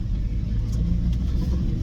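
Cars moving through rainy traffic near Keflavik and Reykjavik, Iceland, heard as a steady close rumble of engines and tyres on a wet road, with no talk.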